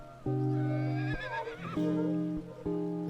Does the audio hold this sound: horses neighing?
yes